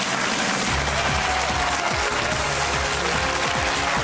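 A studio audience at the game show Who Wants To Be A Millionaire claps and cheers loudly for arriving celebrity contestants, a dense, steady roar of applause that runs unbroken from start to finish.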